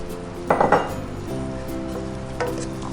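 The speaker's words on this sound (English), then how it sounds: "now we are gonna add in some white wine" White wine poured into a hot pan with pancetta and garlic, setting off a short burst of loud sizzling and clinking pan sounds before a steady fry continues, with a second brief flare near the end.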